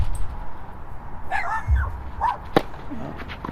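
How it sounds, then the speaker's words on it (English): Dog near a basketball show court at a summer pro shootout, letting out a couple of short yips and whimpering barks at a moderate distance over steady crowd and gym ambience. "Some of the natives here are getting restless as you hear the Schewior dog getting a little tired over there"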